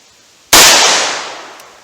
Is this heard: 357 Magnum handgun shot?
yes